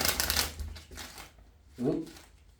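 Tarot cards riffle and flutter in quick bursts of shuffling, with a brief murmur of a voice near the end.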